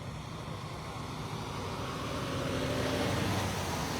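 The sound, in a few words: traffic at a busy truck stop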